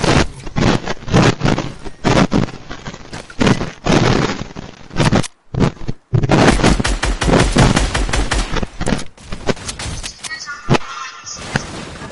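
Rapid bursts of automatic gunfire from a video game duos match, dense and loud, with a brief pause midway before the firing resumes and some faint voices underneath.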